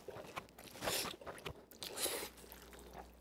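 Crunchy bites and chewing of garlic-loaded jjajang ramen, close and quiet, with soft crunching and wet smacking over about three seconds and no talking.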